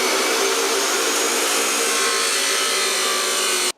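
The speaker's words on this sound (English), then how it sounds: "I'm going to weld on the tube stock at a 45 degree angle and make 2 triangles." Steady, loud welding hiss and crackle running continuously as tube stock is welded at a 45 degree angle onto steel triangles for a timber cart, cutting off abruptly at the end.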